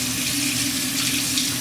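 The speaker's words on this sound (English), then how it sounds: "I'm just going to take the brush and let the water run through the bristles and gently squeeze" Tap water runs steadily from a faucet into a sink as a makeup brush is rinsed under the stream, a close, continuous hiss with no pauses.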